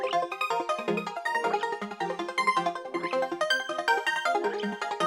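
Layered synth arpeggio melody, the same part copied and stacked, run through a ShaperBox Laser Duck preset in an FL Studio beat; a busy, dense stream of quick bright notes with a steady pumping rhythm, alone with no talk.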